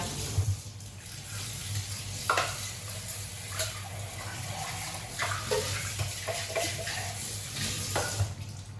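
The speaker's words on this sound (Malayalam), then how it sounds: "ഇനിയിപ്പോൾ ആ ചിരവ കൈയോടെ കഴുകി കഴിഞ്ഞിട്ട് ഇതുപോലെ ഒന്ന് വെക്കും" Running tap water pours over a coconut grater as it is washed by hand in a kitchen sink, a steady close splashing with occasional knocks and clatters.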